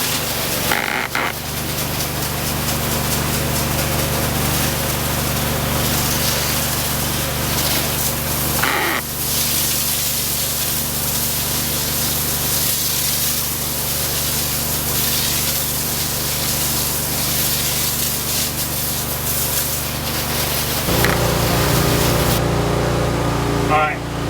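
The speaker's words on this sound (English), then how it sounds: "spraying this stuff on the bricks" Pressure washer spraying Enviro Bio Cleaner foam onto house bricks, a loud continuous hissing spray that runs almost unbroken, with short pauses near the start and end.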